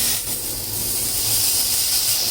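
Butter sizzles in a hot pan with a continuous, fairly loud hiss that holds steady for a couple of seconds.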